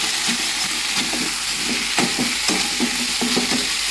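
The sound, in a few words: cauliflower frying and being stirred in pan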